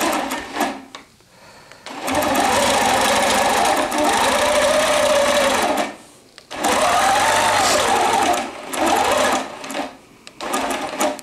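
A longarm quilting machine stitches in the ditch on a dog-themed placemat, guided along rulers, running loud and close in long continuous buzzing passes broken by short pauses and a few brief starts.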